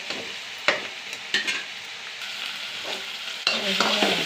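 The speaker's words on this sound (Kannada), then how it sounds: "ಸುವರ್ಣಗಡ್ಡೆ ಪಲ್ಯಗೆ ಅದೇ ಸ್ವಲ್ಪ ಟೊಮೊಟೊ ಚೆನ್ನಾಗಿ ಫ್ರೈ ಆಗಲಿ, ಸಾಫ್ಟ್ ಆಗಲಿ." Chopped tomato fries in hot oil in a pan for a suvarna gadde (elephant foot yam) palya, a soft steady sizzle broken by several sharp clinks and scrapes of a spoon stirring.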